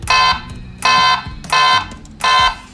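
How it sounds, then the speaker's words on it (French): A toy car horn on a Ford Gran Torino Starsky and Hutch model car beeps four times in a steady rhythm, each blast bright and electronic, with short pauses between. "Ensuite le bouton le plus proche du volant, klaxon."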